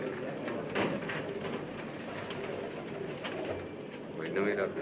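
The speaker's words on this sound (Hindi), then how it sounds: "ये जी माशाल्लाह उस्ताद हाफिज़ फुरकान का जुगनू कबूतर है" A jugnu pigeon coos on a rooftop, soft repeated throaty calls blended into a busy outdoor background with nearby voices talking throughout.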